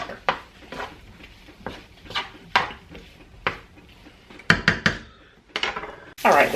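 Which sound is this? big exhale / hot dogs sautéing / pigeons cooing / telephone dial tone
hot dogs sautéing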